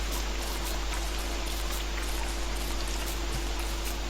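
Steady rain falls in the video game Don't Starve, a constant hissing downpour with faint drip-like patter, even and unbroken throughout, with no voices.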